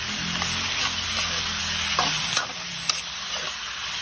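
Beef skin with peanuts and tomato sauce being sautéed and stirred in a pan: loud continuous sizzling with scraping stirs and a few utensil clacks near the end.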